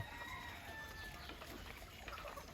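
A native red village rooster clucks softly among other fowl, with faint, scattered calls over quiet background noise.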